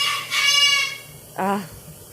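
Pet bird calling indoors in a kitchen, a bright harmonic squawk-like call of about a second followed by a shorter second call, close and fairly loud with no talk over it.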